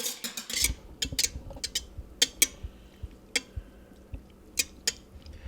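A spoon stirs a yeast mixture for whole wheat bread in a bowl, giving a string of sharp close clinks and taps in an uneven rhythm over a quiet background.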